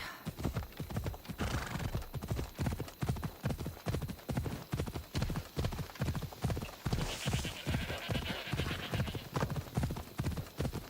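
A horse gallops in Assassin's Creed Odyssey, a steady rapid run of clip-clop hoofbeats close and prominent throughout, with a faint whinny partway through.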